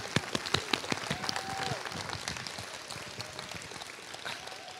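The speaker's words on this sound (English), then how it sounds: "give a good round of applause" Concert audience giving a round of applause: a thick, continuous wash of many hands clapping, strongest at the start and easing slightly, with a few faint whistles over the crowd.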